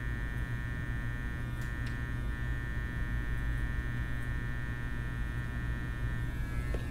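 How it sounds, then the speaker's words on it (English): An electric hair clipper lines up a haircut, giving a steady, close, moderately quiet buzzing hum that holds unchanged throughout, with no talk. "clipper to the head."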